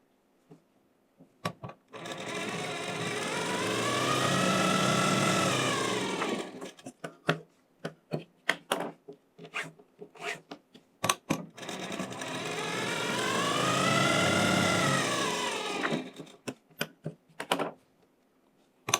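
A sewing machine runs stitching the waistband of a Sabyasachi-style blouse, two long steady whirring runs that rise and fade, separated and followed by clusters of sharp clicks and taps from handling the machine.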